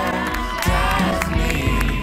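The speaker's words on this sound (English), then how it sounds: "you can cheer these folks as we got them coming in right now" Crowd cheering and clapping at the beach finish of a RiveriaSUP stand-up paddleboard race as racers come in, a steady wash of voices and applause with a few louder whoops, with an announcer speaking over it.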